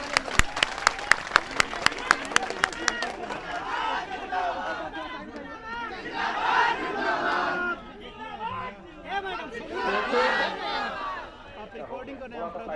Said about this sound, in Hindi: हम सबसे चाहेंगे कि जोरदार तालियों से आप इनका स्वागत करें